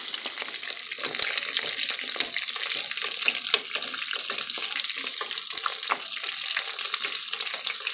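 Boudin balls deep frying in hot oil, a steady bright hiss and crackle of bubbling oil that runs unbroken and close, with no talking.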